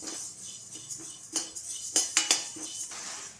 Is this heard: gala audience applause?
no